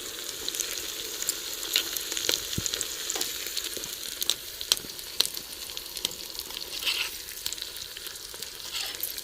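Sliced onions sizzle in a pan with a continuous, close frying crackle and scattered sharp pops and light stirring ticks, alone without talk.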